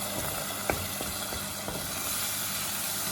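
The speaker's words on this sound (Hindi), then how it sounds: "अब होता है ये काम शुरू जो है भूनने का।" Masala frying in oil in a home kitchen for potato curry, a steady close sizzle with a few scraping stirs and light pops, no talk.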